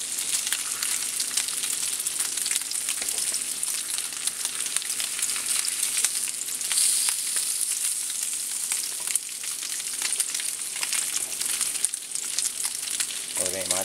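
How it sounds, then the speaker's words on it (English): Turkey bacon fries in a pan, a steady dense sizzle and crackle running the whole way through at an even level, close and continuous, with a brief shift near the end. "Uh-oh, I'm burning it. In my turkey bacon."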